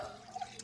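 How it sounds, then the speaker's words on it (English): Hot water poured into a container to melt butter in a kitchen, a brief, soft splashing trickle heard close and fairly quiet, with no voices. "Go ahead, dump the hot water in."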